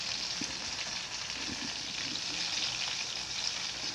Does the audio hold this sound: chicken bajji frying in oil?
yes